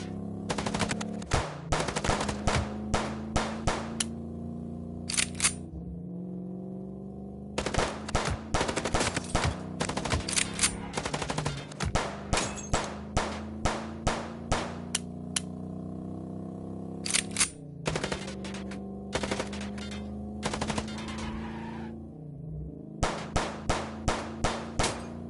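Rapid automatic gunfire bursts rattle loudly in the Chicken Police video game, repeated volleys across the whole stretch with brief pauses, sharp metallic clanks and a low engine drone underneath; no one talks.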